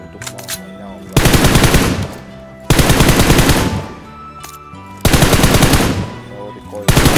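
Bursts of automatic gunfire from a video game rattle in three long, loud strings separated by short pauses, each a dense rapid stream of shots.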